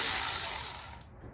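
A ratchet wrench clicks as it turns a 10mm nut on the alternator of a 2006 Toyota Camry 2.4; the close, dense mechanical ratcheting is strongest at first, then thins to a few isolated clicks.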